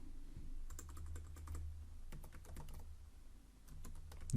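Clicky keystrokes on a computer keyboard come in quick bursts with short pauses, close and fairly quiet, with no voices.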